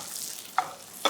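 Skate wing frying in butter in a pan while it is basted, a soft continuous sizzle broken by two quick spoon clinks against the pan.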